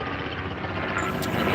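A helicopter's rotor thump and engine drone fill the air over the Liberty of the Seas cruise ship in a continuous, moderately loud wash, gradually growing slightly louder.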